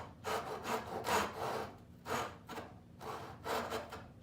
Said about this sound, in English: Now, I got my dovetail saw.